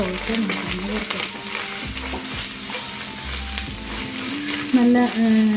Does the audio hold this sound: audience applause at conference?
no